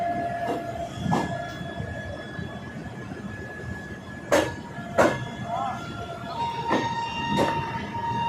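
The Kulik Express train pulls out of Malda Town station with drawn-out horn tones, clanks and wheel clatter over a steady rolling rumble, heard from inside a vistadome coach.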